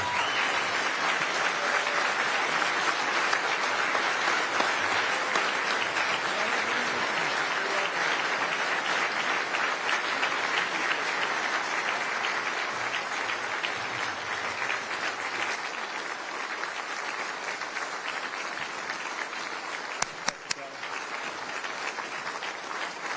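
A large dinner crowd at a Texas Republican legislative event applauds steadily and loudly for Governor Abbott, a dense wall of clapping that holds for over twenty seconds and eases slightly toward the end.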